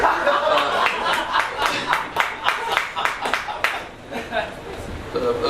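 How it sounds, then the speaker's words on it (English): A comedy club audience at Sassy Ann's in Knoxville claps for the next comedian, a dense run of overlapping handclaps filling the room with a few chuckles mixed in. "Give him a warm round of applause"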